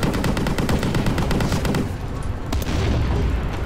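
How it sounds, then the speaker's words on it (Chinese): Rapid cannon and gunfire from tanks in the video game Tank Warfare Simulator, a dense rattling burst of repeated shots followed by a heavy boom and loud rumbling. "他这个炮是一个超级爆破型的感觉"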